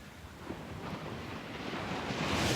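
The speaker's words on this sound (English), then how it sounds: "listening to the waves just lapping onto the beach" Waves lap onto a beach in a soft, continuous wash mixed with wind noise, swelling gently toward the end, with no voices.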